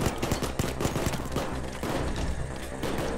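Rapid gunfire while shooting at a sniper in the video game Payday 2: dense, loud bursts of shots in quick succession, some sharp cracks standing out over continuous firing and low booming.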